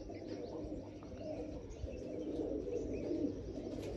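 Pigeons cooing in a loft during a sunning session, a steady low murmur of coos with faint chirps over a constant background hum, moderately near and continuous throughout.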